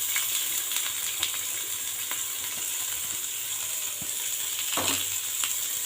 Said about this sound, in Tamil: வெங்காயம் கொஞ்சம் லைட்டாக வதங்கட்டும்.